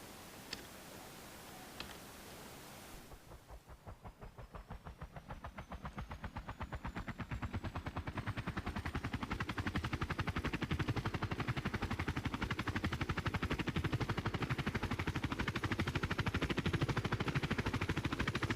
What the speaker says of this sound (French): C'est l'hélicoptère de transport le plus utilisé par les forces spéciales